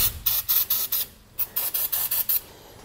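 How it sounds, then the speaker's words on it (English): Aerosol penetrating oil hisses onto trailer axle bolts in about ten short, even bursts, close and crisp, with a brief pause partway through. "I'm also going to grab some penetrating oil and just hit these bolts here to help break them loose."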